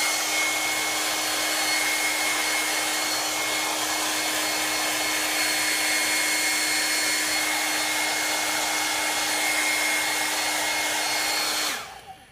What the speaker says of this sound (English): I'm going to go ahead and take a hair dryer to it, get out of some of these crevices